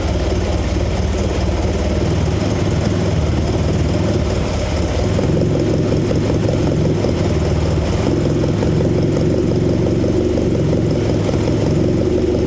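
A 1972 Toyota Celica engine fitted with Mikuni 40PHH carburetors idles steadily and loudly throughout, a close, even low rumble with a slightly uneven pulse and no talk over it.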